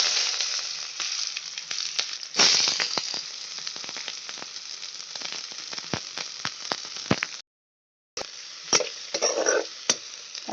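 Onions fry in hot oil in a kadai with a loud, continuous sizzle. Sharp crackles and stirring scrapes punctuate it, there is a short gap of silence, and then the sizzle resumes with bursts of spitting.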